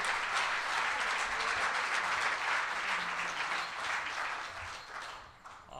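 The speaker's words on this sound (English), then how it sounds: "Let's give them a big round of applause." Warm audience applause at a Rotary club holiday meeting, a roomful of people clapping steadily and fairly evenly, then tapering off near the end.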